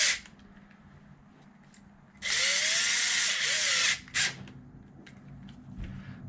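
Cordless power drill driving a screw into an Arrma Typhon TLR RC car, a single steady whir of about two seconds followed by a short second burst, close and loud against a quiet room.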